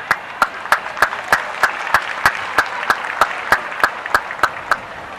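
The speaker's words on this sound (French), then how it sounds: "On applaudit mon Seigneur là, s'il vous plaît. On applaudit." Steady, evenly spaced clapping in a quick regular rhythm, loud and close, with a faint murmur underneath.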